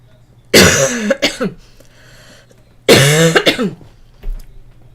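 Two separate fits of harsh, raspy coughing from someone quitting smoking, each a rapid cluster of hacks, close and loud, with a quiet pause between them.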